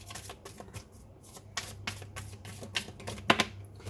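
Tarot cards being shuffled and drawn, a run of quick papery flicks and soft slaps at close range with brief crisp riffles, no talk over them.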